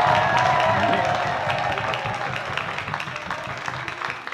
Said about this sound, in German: An dieser Stelle von euch allen einen riesigen Jubel und Applaus für Günther.